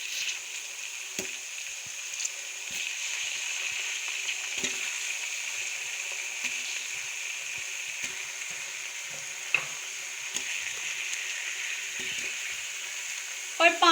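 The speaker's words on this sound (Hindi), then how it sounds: "और 5 मिनट के लिए इसको भी भून लेंगे" Chicken pieces sizzle and fry in a pan with onions for degi biryani, a steady crackling hiss with occasional stirring scrapes and clinks, close and continuous without speech.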